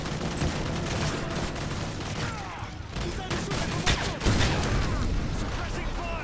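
Dense gunfire from the Call of Duty: Modern Warfare 3 campaign rattles in rapid, overlapping bursts and booms, loud and near, continuing throughout with a voice talking over it.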